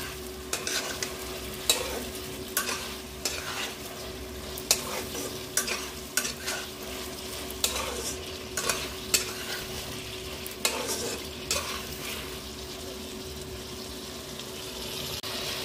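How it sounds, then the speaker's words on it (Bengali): A utensil scrapes and stirs fried cauliflower and chicken pieces around a pan, with repeated sharp scraping strokes over a steady sizzle and a constant low hum underneath. "এরপর এখানে ভেজে রাখা ফুলকপি আর চিকেনের টুকরোগুলোকে দিয়ে দেব। দিয়ে ভালো করে এর সঙ্গে মিশিয়ে নেব।"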